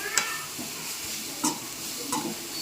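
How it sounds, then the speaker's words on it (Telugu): Curry spices and coriander powder being stirred in a hot pan for chicken curry, with a steady soft sizzle and three distinct scraping strokes of the spoon spaced about a second apart, no voices. "కొద్దిగా ధనియాల పౌడర్ వేద్దామండి. ఇవన్నీ ఇలా కలుపుకోవాలండి."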